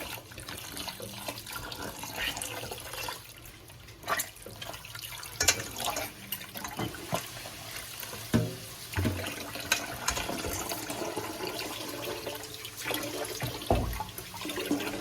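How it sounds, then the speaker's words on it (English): Tap water running into a bowl while homemade butter is rinsed and squeezed to wash out cloudy buttermilk, a steady close splashing flow with brief handling knocks and drips over about fifteen seconds. "as I'm filling it up with water, you can see the buttermilk, right?"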